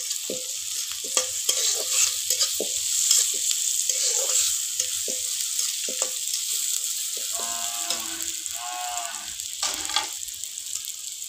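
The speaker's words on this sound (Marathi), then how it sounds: "टमाटे टाकूया, थोडं खोबऱ्याचं पीस, छान असं फ्राय करून घेऊ।" Tomatoes and coconut pieces frying in a pan, with frequent stirring scrapes and clinks, plus a low lowing animal sound in the background near the end, on a village farm.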